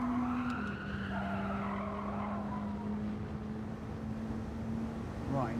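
Race car sliding off the curb in Gran Turismo 7, a 2016 BAC Mono: a steady engine drone runs throughout while tires skid and scrub, with a brief sharper squeal near the end.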